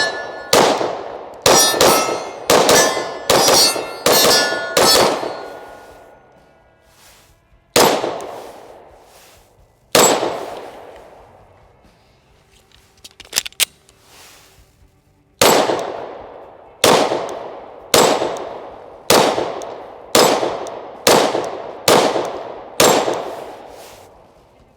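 Pistol shots from a Palmetto State Armory Dagger ringing off steel targets: loud, sharp cracks each followed by a metallic clang, fired in quick strings of five or six with a few single shots and pauses between.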